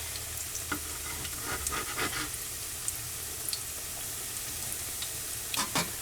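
Fish fritters fry steadily in a pan, a continuous close sizzle with occasional sharper crackles and a few scraping stirs, no voices.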